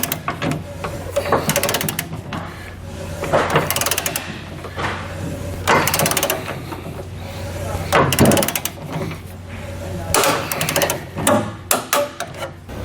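Ratchet with a 3/4 inch socket tightening trailer hitch hardware, bursts of rapid clicking and knocking repeated several times with short pauses, close and moderately loud, no talking.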